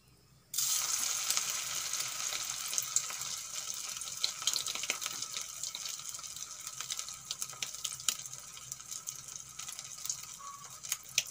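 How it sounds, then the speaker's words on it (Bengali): Potato and egg fritters with ginger and garlic drop into hot oil and fry, starting with a sudden burst of sizzling that settles into a steady crackling hiss with small pops, close by and without speech. "এখন বড়াগুলো ভেজে নেব।"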